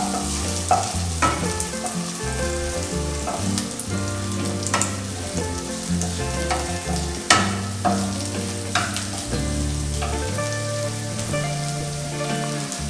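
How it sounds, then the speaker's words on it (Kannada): Chopped onions sizzle in hot oil in a pan for noodle biryani, a steady close frying crackle broken by repeated scraping stirs and spoon knocks, with no voices. "ಈರುಳ್ಳಿನ ಹಾಕ್ಕೊಂಡು ಫಸ್ಟು ಚೆನ್ನಾಗಿ ಮಿಕ್ಸ್ ಮಾಡ್ಕೊಳ್ಳಿ."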